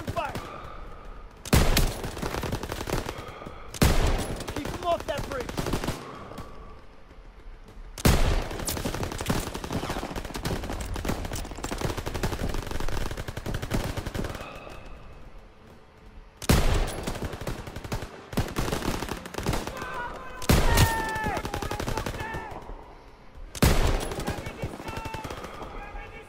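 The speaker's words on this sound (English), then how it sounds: "MGs, open fire." Machine guns firing in Call of Duty WW2 during a World War II battle: loud, sustained automatic bursts in long volleys with brief gaps, mixed with other battlefield gunfire.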